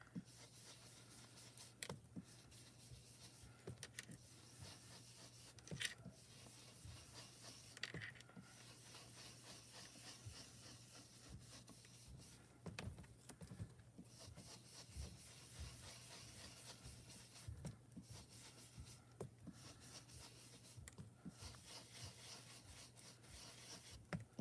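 An ink blending tool rubs ink over toner foil on a card panel, making soft, continuous, faint scrubbing strokes in a quiet room.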